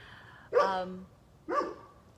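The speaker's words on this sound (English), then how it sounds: "my dog is barking" A dog barks twice, close and fairly loud, the two barks about a second apart over a low steady background hum.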